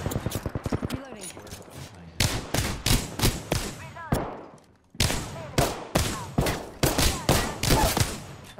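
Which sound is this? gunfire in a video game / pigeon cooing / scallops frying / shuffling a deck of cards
gunfire in a video game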